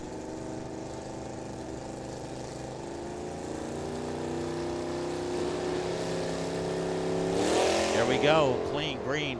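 An '81 Mustang and a '64 Nova launch at a drag race at Firebird Motorsports Park, engines droning loudly and building to a harsh surge near the end while an announcer talks over them.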